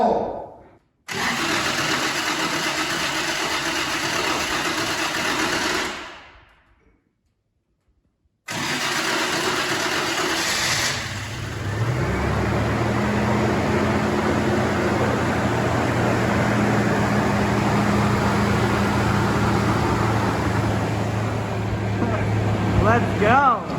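A 1998 Toyota Tacoma truck engine cranks and catches, cuts out after a short run, then restarts and settles into a loud, steady idle that continues to the end, close by with no one talking over it.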